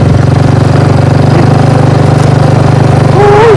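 An engine-driven water pump runs loud and close in a rural village, its single-cylinder motor chugging in a fast, even pulse with a faint high whine entering near the end.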